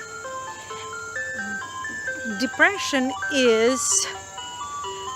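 An ice cream truck jingle plays its stepped, tinkling melody at moderate volume while a person talks over it and another voice briefly rises above the tune.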